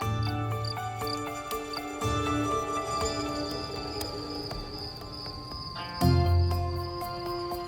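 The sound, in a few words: field crickets chirping on a summer night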